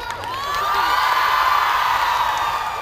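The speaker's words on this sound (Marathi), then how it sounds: "जोरदार टाळ्या होऊ द्यात मित्रांनो" A college festival crowd cheering and whooping at a live stage event, a dense sustained roar of many voices with shrill shouts rising over it.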